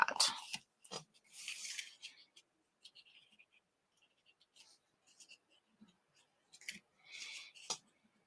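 Scissors trimming cardstock for a handmade card, heard as several short, quiet snips spread between soft handling sounds, with someone talking quietly.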